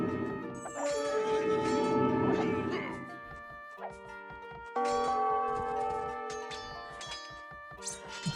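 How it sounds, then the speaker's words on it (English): Bell strikes in Age of Empires II, several resonant chimes ringing out with long sustained tones, the first cluster fading before a later set of rings, with game sounds and some speech mixed in. "Thought I rang the bell here."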